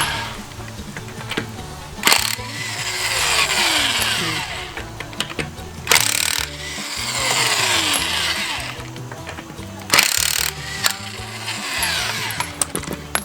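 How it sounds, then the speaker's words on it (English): Lug nuts come off a 2010 Lexus RX350 wheel during a serpentine belt job, with three short, loud, rattling bursts from a power tool spaced a few seconds apart over quieter background noise. "Just to remove the lug nut"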